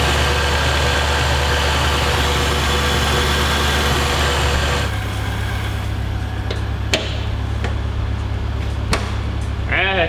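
A manual Lexus IS300 with a swapped 3UZ V8 rumbles at a steady idle, deep and continuous throughout, with the low drone shifting slightly partway through and a few faint clicks near the end.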